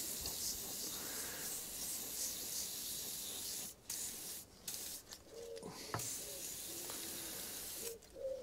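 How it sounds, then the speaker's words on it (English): WD-40 is sprayed onto a carburetor part from a Honda HRX476 lawnmower, giving close, loud hissing bursts separated by brief pauses. "Wash it off with WD-40 in case that ring swells up."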